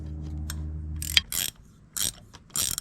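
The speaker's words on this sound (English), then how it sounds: "take the inner nut and spin that one lefty-loosey" A nut spun loose on an RB25DET engine during a Nissan S13 project repair: a low hum at first, then a sharp click and short bursts of ratcheting, close and isolated, with no speech.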